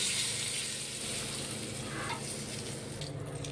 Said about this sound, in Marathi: आपण वरतून फोडणी टाकूया. वरतून फोडणी देऊया.